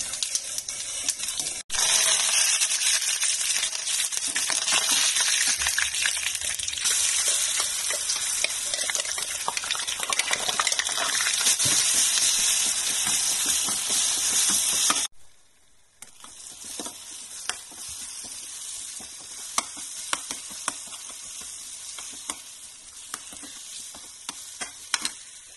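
Ground raw mango chutney is stirred into a hot oil tempering of chana dal and curry leaves, with a steady loud sizzle and scraping for about fifteen seconds before it drops quieter and continues more gently.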